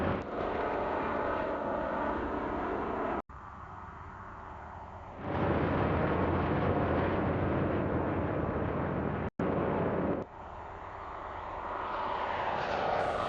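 Roaring engine noise of an airliner taking off from runway 07 right at Hong Kong International Airport, a broad steady rumble that drops out briefly, surges louder in the middle and builds again toward the end.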